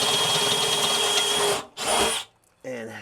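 A power drill with a 5/16-inch bit bores at an angle during a tongue box install on a 2022 Runaway Rangerunner trailer, and the bit breaks. A loud steady motor whine cuts off, gives one short burst, then a voice speaks briefly.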